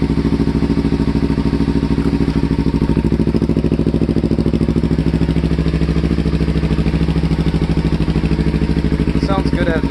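A Kawasaki Ninja motorcycle fitted with a Ransoto slip-on exhaust idles steadily and close up, a loud, raspy, continuous rumble with fast pulsing throughout.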